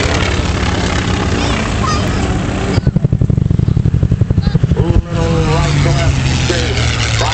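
Aircraft flying low over a Pearl Harbor reenactment, a loud, steady propeller engine roar with a stretch of rapid pulsing beats in the middle and speech mixed in.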